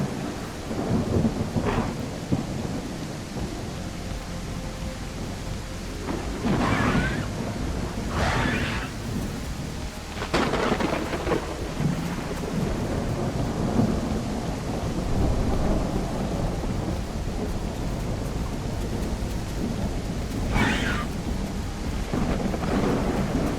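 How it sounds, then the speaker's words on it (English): Thunderstorm with rain sweeping across the highlands in a dinosaur survival video game, with steady rain hiss under several loud thunder cracks and rumbles spaced through the scene. "Thunderstorm rolls in."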